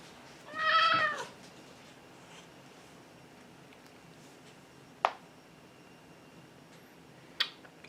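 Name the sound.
cat meowing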